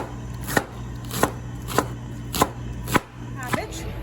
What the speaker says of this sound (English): So I'm chopping cabbage.